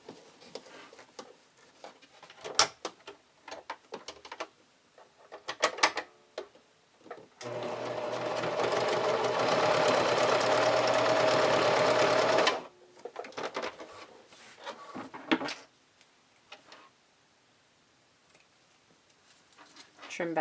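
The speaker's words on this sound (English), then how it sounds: "And then I can just turn that under and then zigzag stitch across here." Sewing machine zigzag stitching across folded elastic on a bralette, one steady five-second run of stitching between quieter stretches of handling and faint talk.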